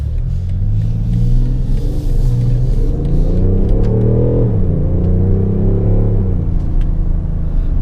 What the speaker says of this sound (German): der 50D, das ist ja hier der Quad-Turbo, 400 PS und jede Menge Drehmoment, der zieht schon richtig gut an